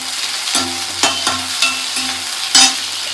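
Food sautéing in a pan makes a loud, close sizzle, broken by several sharp scraping strokes of a stirring utensil about every half second.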